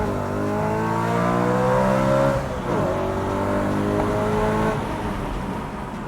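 A BMW E92 M3 Competition revs hard to its redline under an overpass, a loud rising engine wail climbing through the gears, briefly dropping at a shift, then climbing again before easing off.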